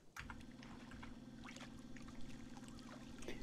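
In the video game Fishing Sim World, a boat motor hums low and steady under trickling, splashing water, all quiet and continuous with no voices.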